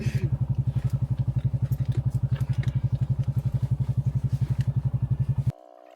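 Off-road motorcycle engine on a Sagamihara trail, a loud close thumping beat pulsing fast and steady for about five seconds before cutting off abruptly.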